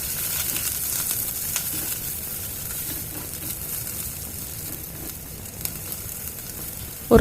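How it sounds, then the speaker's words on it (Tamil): Curry leaves frying in hot oil with cumin, crushed garlic and green chillies for rasam give a continuous fine crackling sizzle, close and steady, ending in a sudden louder burst. "ஒரு 10-15 செகண்ட்ஸ் வதக்கிட்டு"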